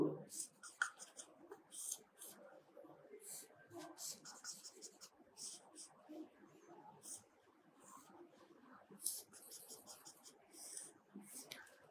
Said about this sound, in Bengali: মনে করো আমি এই আরেকটা ছবি আঁকছি